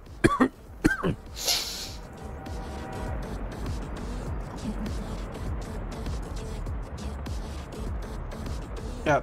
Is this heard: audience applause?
no